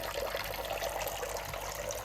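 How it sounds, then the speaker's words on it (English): Garden pond water circulating beneath the surface after the waterfall is switched off, heard as a soft continuous trickle and gurgle, faint and steady throughout. "I'm going to switch this off, switch off the waterfall, and then just have it circulating"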